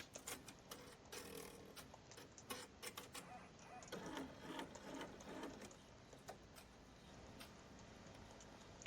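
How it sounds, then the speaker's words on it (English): An embroidery machine stitching a final rope stitch around a patch design, giving a rapid, steady mechanical clatter of needle strikes with regular ticking accents, close and continuous throughout. "now your machine is going to stitch that final rope stitch around the entire design"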